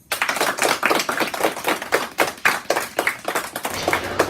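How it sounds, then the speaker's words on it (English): Audience at a school Veterans Day program claps for veterans in attendance, a dense run of individual hand claps with uneven rhythm, fairly close and steady for about four seconds. "give them a big round of applause"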